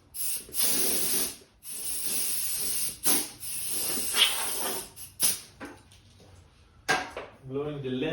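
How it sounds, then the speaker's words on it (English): Compressed air blasting lint off parts during a Kubota V3800 diesel engine rebuild, several loud hissing bursts of varying length with short gaps, followed by a voice near the end. "blowing the lint away"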